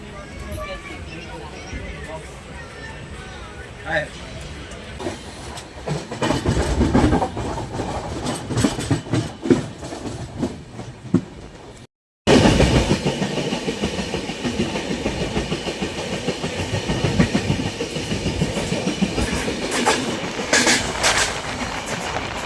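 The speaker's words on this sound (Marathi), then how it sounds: "आता ट्रेन सुटली" A train rumbles steadily along with a rhythmic clickety-clack of wheels on rails. People talk over the noise, and there is a brief break partway through.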